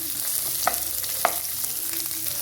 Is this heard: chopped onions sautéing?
yes